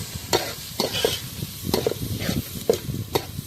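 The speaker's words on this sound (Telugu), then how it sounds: "ఉల్లిగడ్డ కొంచెం ఫ్రై అయిపోయిన తర్వాత ఒక స్పూన్ పసుపు వేసుకోవాలి పసుపు వేసుకొని మొత్తం ఒకసారి కలిసేలాగా ఇలా కలుపుకోవాలి" Onions fry in a pan with turmeric while a spoon stirs them, giving soft sizzling under a series of distinct scraping strokes in an uneven rhythm.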